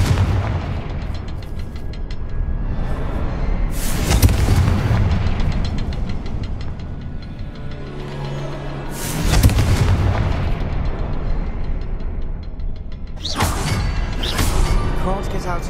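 Confringo spell explosions in the Hogwarts Legacy video game: three loud, booming fiery blasts spaced several seconds apart, each with a sharp onset and a rumbling tail, over a steady background of game ambience.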